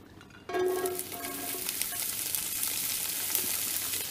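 Landjäger sausages drop into hot rapeseed oil on a grill, bursting into a loud, steady sizzle and crackle of frying that continues without pause and without any voice over it.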